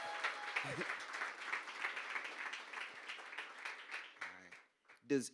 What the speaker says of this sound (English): Let's make some noise real quick for Marcus Bullock.